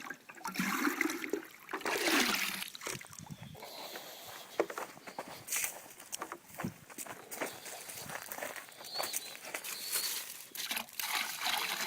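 Water is poured from a bucket into a swimming pool pump to prime it: steady splashing and gurgling with some shuffling movement, fairly close throughout.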